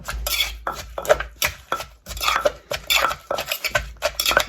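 Chilies and garlic are pounded in a mortar for a spicy papaya salad with fermented fish sauce, giving repeated close knocks and clattering strokes in an uneven rhythm with brief pauses and no talk.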